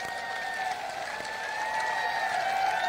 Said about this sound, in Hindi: इसके खिलाफ देखिए ताली बज रही है